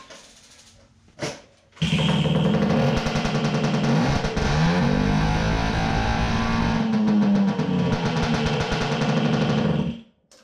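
A 1978 Puch Maxi moped is kicked and its small two-stroke engine catches after a brief cough, then runs steadily with a loud, buzzing idle that holds close and constant for about eight seconds before cutting off.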